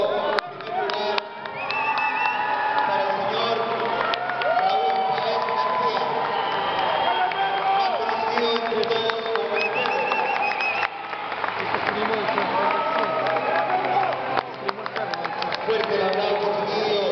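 A large crowd at a bodybuilding awards ceremony applauds and cheers the competing athletes, a steady dense roar of clapping and voices that holds loud throughout with music and calls mixed in.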